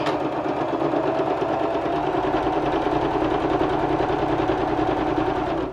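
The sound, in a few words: sewing machine stitching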